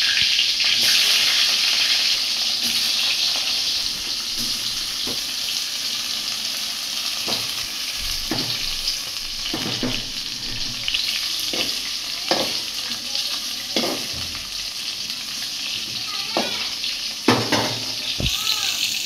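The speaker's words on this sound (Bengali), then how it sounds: "করলা ভেজে নিচ্ছে" Bitter gourd (karela) slices sizzle and crackle in hot oil in a pan, a steady close frying hiss broken by periodic scraping stirs.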